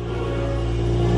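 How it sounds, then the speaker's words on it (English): Car engine, cold-started with a Bootmod3 aggressive burble tune, holds a loud, steady, deep idle drone with a slight rise in level, close and alone with no voices. "Cold start is back, baby."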